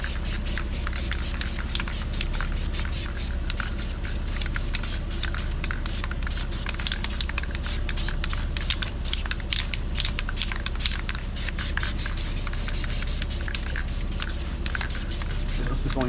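An aerosol can sprays black paint onto an Infiniti G3 car wheel in a first coat, a continuous close hiss with rapid rattly clicks and crackle throughout, voices talking faintly underneath.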